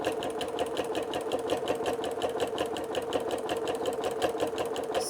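A sewing machine stitches a quilted Santa cookie rug in a steady, fast rhythmic whir of needle strokes, close and continuous with no talk over it.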